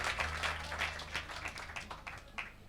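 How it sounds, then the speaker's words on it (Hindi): Scattered clapping from a devotional bhajan gathering, fairly faint and uneven, with bursts of claps over a low hum. "आप तालियां बजा दीजिए एक बार विजेता जी के लिए"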